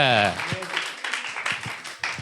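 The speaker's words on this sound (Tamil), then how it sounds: "கைத்தட்டு கொடுத்துருங்க" A church congregation at a Sunday service applauds, a dense patter of many hands clapping at moderate volume, following a few words from a speaker at the start.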